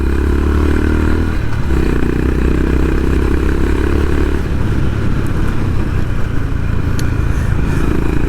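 A Honda CB350RS motorcycle rides along a narrow village road, its engine thrumming steadily up close, with clattering mechanical texture and a shift in tone partway through as the rider changes pace.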